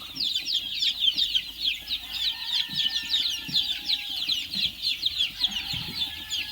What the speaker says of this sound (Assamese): এইটো মোৰ সোণালী মুৰ্গীৰ পোৱালি চাওক।